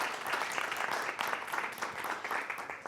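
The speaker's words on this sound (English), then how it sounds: "please give them a round of applause" Audience members at a physician discussion panel applaud the board members, a fairly faint, steady patter of many hands clapping together.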